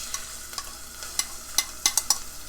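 Onions and chili sizzle in a hot pan for Italian bucatini, a steady faint hiss broken by sharp clicks of stirring with a utensil, with no voices.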